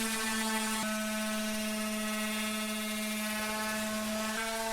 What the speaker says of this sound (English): The old Black & Decker orbital sander got it done.